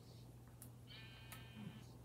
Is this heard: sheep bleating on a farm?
yes